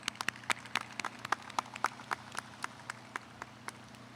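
Graduation audience applause at a language institute ceremony, a moderate crowd clapping in a hall with distinct individual claps popping out of the steady patter, continuing throughout and tapering slightly toward the end.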